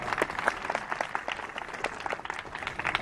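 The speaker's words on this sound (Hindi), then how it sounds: "आप लोग जोरदार तालियां बजा दीजिए एक बार" An audience at a Swachh Bharat Mission event in Shahjahanpur, India claps enthusiastically, a dense patter of many hands applauding steadily throughout.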